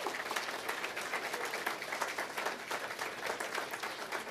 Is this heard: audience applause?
yes